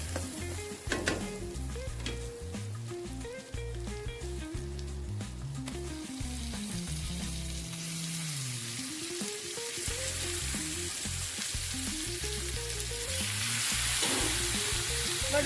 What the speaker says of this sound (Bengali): রসুন পেঁয়াজের সাথে ভালো করে নেড়ে ছেড়ে মাংসটাকে ভাজবে